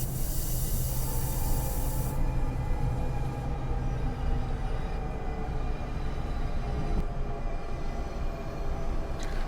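Train brakes hiss on a commuter train in the Train Sim World 6 game on the Morristown Line, a loud steady broadband air hiss over low rumbling, with the hiss cutting down partway through.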